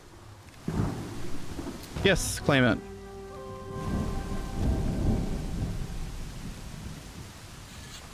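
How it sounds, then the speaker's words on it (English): Thunder rumbles and steady rain fall during a thunderstorm in the survival video game Smalland: Survive the Wilds, with a short speech phrase and some game tones over the roar, which continues under the weather for the whole stretch. "we get a warning that the storm is breaking"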